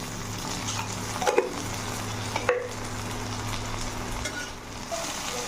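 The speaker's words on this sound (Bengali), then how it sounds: "ভেজে নেবো বেশি থাকবে না হালকা ভেজে উঠিয়ে নেবো" Okra (ladies' finger) fries lightly in a pan, a steady soft sizzle with a couple of sharp stirring scrapes, close by and without talk.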